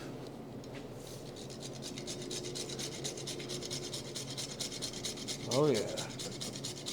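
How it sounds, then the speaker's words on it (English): A whole nutmeg scraped on a grater into milk: steady rapid rasping strokes in a close, even rhythm, with a short spoken remark partway through. "So this is nutmeg. You're gonna grate some inside to give more flavor to the milk."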